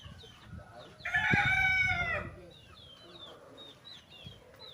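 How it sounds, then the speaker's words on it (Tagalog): Roosters crowing and chickens clucking at a game farm where fighting cocks are trained, with one loud nearby crow in the middle, then lighter chirps and clucks scattered around. "So kasi may game farm yung may-ari. Meron silang rawela, trainingan ng manok."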